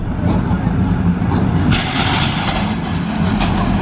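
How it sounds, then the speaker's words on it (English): A stock six-cylinder car engine roars loud and steady under hard acceleration, with rough mechanical crunches breaking through as first gear fails and a tire comes off its bead; voices are heard over it. "Yep, there went first gear. I just broke the tire off the bead."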